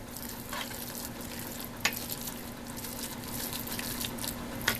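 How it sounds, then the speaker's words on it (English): Hormel no-bean chili being stirred into browned ground beef in a pan gives a steady close sizzle, with a couple of sharp clicks of a utensil against the pan and no talking. "of that Hormel chili with no beans and mix that in with this ground beef."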